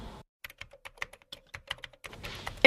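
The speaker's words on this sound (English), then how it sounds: "Mulder sits at a computer, typing furiously." Rapid, furious typing on a computer keyboard at an FBI headquarters desk, a dense run of sharp close key clicks with no talk.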